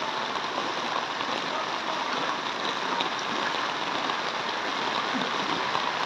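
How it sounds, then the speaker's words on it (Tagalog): Steady heavy rain falls without a break during a typhoon flood in Navotas City, a dense even hiss close around with no voices. "Ito kami, lakad-lakad sa ulan."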